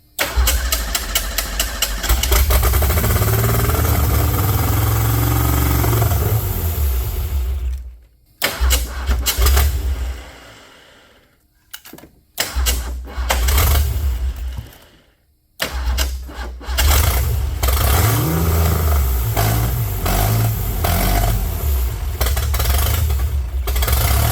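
A Ford Mustang engine that had sat for 32 years cranks and runs loudly up close, idling roughly, then dying and restarting twice with brief gaps of near silence before settling into a rumbling idle.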